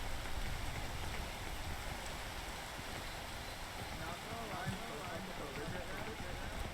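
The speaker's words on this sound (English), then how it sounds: "Oh, it's raining." Steady rain falls in the climbing game Peak, a constant dense hiss of raindrops washing across the whole clip at moderate level, with faint voices talking underneath.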